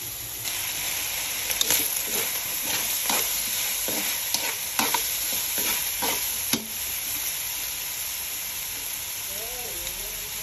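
Cooking oil heating in a pan for ginataang kamansi, a steady loud sizzle and frying hiss with a few scraping stirs early on, no talking.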